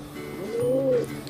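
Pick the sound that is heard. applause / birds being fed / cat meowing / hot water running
birds being fed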